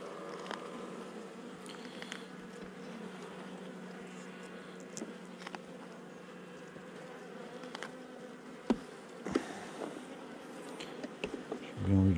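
Steady buzzing of a honeybee colony in an open hive during an inspection of a mid-June swarm, continuous and close throughout, with a few sharp knocks and handling noises near the end.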